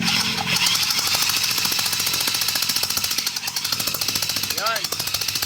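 A power drill works on a Mio Soul i 115 fuel-injected scooter engine being built up to 170cc, a loud, steady rapid buzzing chatter, with someone talking briefly.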